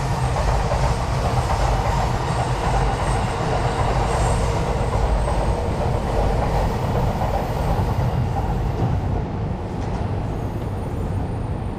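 A train passes on one of Tokyo's many lines, a loud continuous rolling rumble with clattering wheels and faint squeal that holds steady, then eases slightly near the end.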